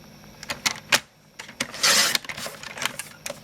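Paper cutter slicing cardstock for thank-you cards, a few sharp scraping swipes and clicks at close range, with one longer hiss-like slide in the middle, no talking.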